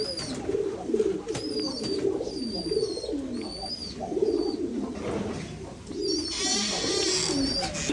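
A flock of white pigeons coos steadily in overlapping rounded phrases, with occasional sharper chirps and wing noise, close and fairly loud with little talk.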